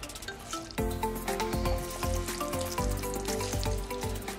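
Potatoes sizzle in hot oil during their second frying, a dense, steady crackling hiss that swells and churns continuously throughout, close and fairly loud with no talking.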